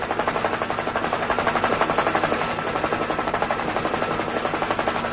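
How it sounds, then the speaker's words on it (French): Helicopters in a 1960 Tintin cartoon, L'île Noire, with a loud, steady, fast rotor chop that runs through the whole stretch and has no talk over it. "on dirait que les hélicoptères reviennent"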